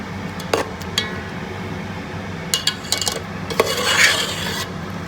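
Chicken and potato curry being stirred in a pan, with a utensil scraping and rasping against the metal in a few short strokes and clinks, ending in a longer scrape, close and moderately loud without speech.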